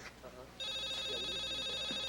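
A telephone bell rings continuously and loudly, starting abruptly partway through after a short stretch of quieter room sound with a voice.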